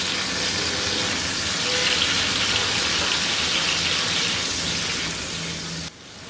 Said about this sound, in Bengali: এটাকে আমার ভেজে টমেটোটাকে হালকা একটু গলায় নিতে হবে।